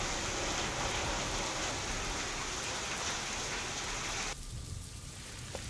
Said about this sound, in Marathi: जोरदार अवकाळी पाऊस झालेला आहे